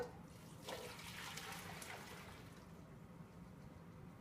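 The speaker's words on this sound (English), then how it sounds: "You put back the broth." Seafood ramen broth poured back into a pot, a faint continuous liquid splashing and trickling that tapers off after a few seconds.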